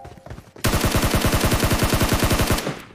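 Sustained automatic gunfire from a mobile battle-royale shooter game, a rapid, evenly spaced burst of loud shots lasting about two seconds after a brief quiet start.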